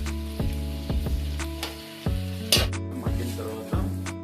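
Green chillies and onions frying in a pan for Telangana-style mutton curry: a continuous sizzle punctuated by repeated sharp clinks of a spoon against the pan at an uneven stirring rhythm, close and clear.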